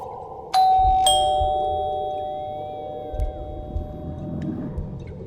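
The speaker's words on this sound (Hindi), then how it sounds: "दूध वाले ने घंटी बजाई" A two-tone electronic doorbell chimes, ding then dong, and rings out over a low hum of background noise with faint rustling.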